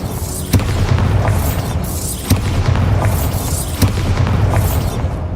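Bombarda spell explosions in Hogwarts Legacy, four loud booming blasts spaced roughly every one and a half seconds, each with a sharp attack and rumbling decay over continuous background game ambience.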